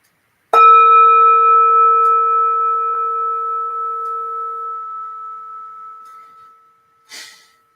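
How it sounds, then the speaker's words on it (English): A single meditation bell struck once to close a sitting, ringing out clearly and fading slowly over about six seconds, followed by a short breathy sound near the end. "I'll invite the bell to signal the end of our sit."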